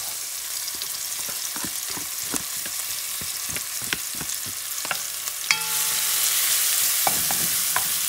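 Minced garlic frying in a pan of sofrito for Puerto Rican arroz guisado, a steady close sizzle with frequent clinks of a utensil stirring, growing a bit louder and hissier partway through.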